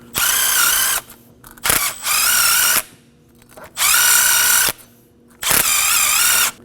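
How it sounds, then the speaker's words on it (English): Power drill fitted with a hub cleaner scrubbing rust off a 2011-2016 Kia Optima wheel hub: four loud, close whirring bursts of about a second each, separated by short pauses. "Using a hub cleaner, go ahead and go around each stud."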